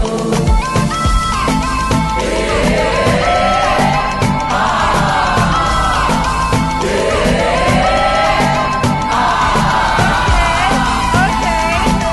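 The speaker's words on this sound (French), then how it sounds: "Sous vos applaudissements." A crowd at the Miss Universe DRC 2025 pageant cheers and whoops loudly for contestant number 15, with sustained, rising shouts and ululation over a dense, steady roar that lasts throughout.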